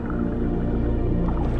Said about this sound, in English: Dolphins communicate with one another by transmitting and receiving different sounds, squeaks, grunts, moans.